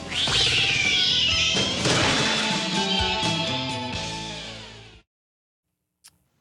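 Loud cat yowling and caterwauling in a 1991 comedy movie trailer, a drawn-out wailing cry layered with crashing clatter that fades out, followed by silence and one faint short click.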